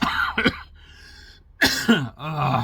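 Several hoarse coughs and throat-clearing bursts from one person, close and loud, in two clusters with a short quiet gap between them and no talking.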